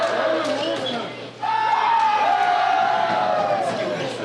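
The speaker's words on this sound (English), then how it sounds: "The Voodoo bench just electing to be a cheering crowd" Hockey bench crowd at an NBHL Texas junior game between Bossier City Voodoo and Dallas Fort Worth Marksmen, cheering and whooping loudly and continuously for several seconds after a brief dip, with a commentator speaking over it.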